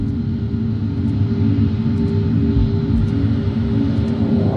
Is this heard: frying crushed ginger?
no